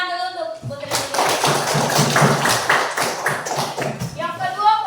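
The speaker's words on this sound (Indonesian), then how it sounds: "Tepuk tangan dulu untuk Putri Titian." Classroom applause for a student, a burst of many hands clapping together for several seconds, close and lively, with a teacher speaking just before and after.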